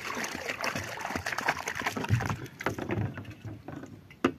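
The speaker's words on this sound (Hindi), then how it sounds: "खोल के उसी के बाद कूलर में पानी डालते हैं" Water poured into an evaporative air cooler at a mud house in a desert village, a steady trickling and sloshing stream with splashy bursts, close and continuous, ending in a sharp knock.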